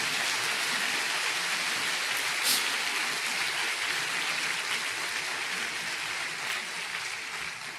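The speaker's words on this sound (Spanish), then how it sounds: "¿Cuánto le dan un aplauso al Señor?" A church congregation applauds during a sermon, with steady, dense clapping that fills the room and slowly tapers off.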